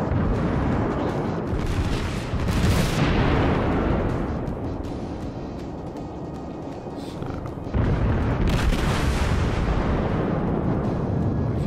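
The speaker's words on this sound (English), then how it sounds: "I'll wait for all my guns to load up. You can fire HE and AP rounds as well." Heavy naval gunfire in the World of Warships game, with booming shell salvos loud and continuous, big broadband bursts swelling near the start and again later over a constant rumbling battle backdrop.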